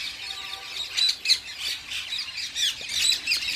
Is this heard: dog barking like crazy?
no